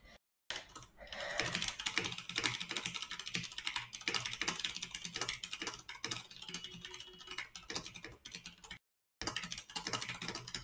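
Someone types on a computer keyboard close up, producing rapid, continuous clacking keystrokes that continue through the whole stretch with two brief silent gaps.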